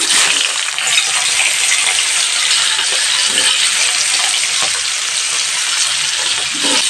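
Paneer frying in hot oil over low heat, a steady broadband sizzle that fills the pan continuously with small crackles and pops, no talking.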